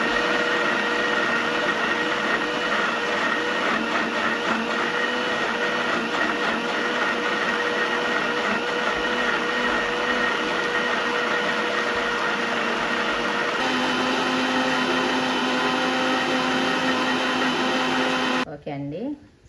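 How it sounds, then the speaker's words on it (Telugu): A kitchen mixer grinder whirs continuously while blending bottle gourd with water into juice, a loud steady motor drone that shifts pitch partway through and cuts off abruptly at the end. "ఓకే అండి, ఇప్పుడు మిక్సీ పట్టేసుకుందాం."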